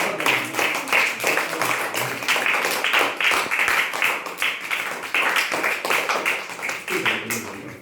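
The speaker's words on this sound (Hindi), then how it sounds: "जोरदार तालियां दोनों बच्चों को" An audience claps for two brothers receiving yoga training certificates at a primary school ceremony, a sustained, busy patter of many hands at close range that continues without pause.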